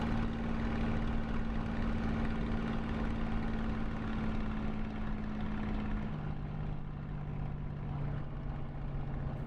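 Steady, loud propeller-aircraft engine drone from a flight simulator game during a long landing approach, continuous throughout with a slight drop in pitch partway through and no voices.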